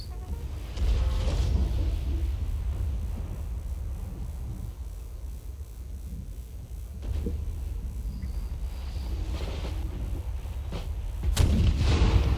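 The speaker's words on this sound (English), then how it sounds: "My guns are shooting into the earth because they have no height advantage." Cannon artillery fire in Napoleon: Total War, with three deep booming volleys spaced several seconds apart over a constant rumbling battlefield bed, heavy and somewhat distant.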